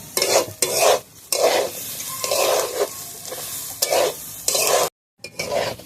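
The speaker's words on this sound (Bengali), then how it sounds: "তো চালটা ভালোভাবে ভেজে নিয়েছি" Rice for pulao stirred and fried in a hot pan, a steady close sizzle with repeated scraping stirs in bursts, one brief silent gap near the end, no voices.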